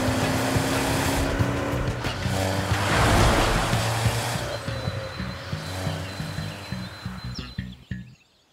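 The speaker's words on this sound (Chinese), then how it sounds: "麻烦油门踩到底。" An animated car driven hard at full throttle, with a steady roaring engine and road rush that swell around the middle and then break into choppy pulses before cutting off, no voices over it.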